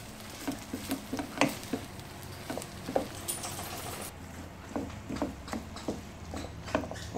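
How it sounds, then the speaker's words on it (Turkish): A spoon stirs vegetable rice pilaf in a pot, giving soft, irregular scraping and patting clicks spaced through the span, quiet and close with a faint background hiss. "Şimdi bunları birbirine iyice karıştırıyoruz."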